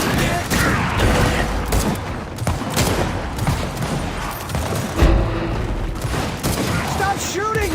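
Rapid video-game gunfire crackles in dense bursts and booms, with a few heavier blasts, while a player's voice talks over the shooting.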